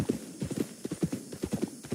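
Horses' hooves clip-clop in a steady, relentless trotting rhythm, a run of quick hollow thuds close by and moderately loud, as a sound effect in an audio drama.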